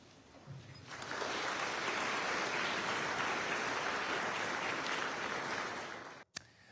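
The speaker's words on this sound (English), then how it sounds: "More applause today" A crowd applauds at a grand opening in Louisville. Steady, even clapping swells in after a quiet start and holds for several seconds, fairly soft and distant, then tapers off abruptly.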